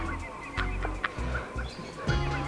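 A parrot squawks in a children's TV comedy scene, giving several loud, honking, goose-like calls spaced across a couple of seconds over a low steady background hum.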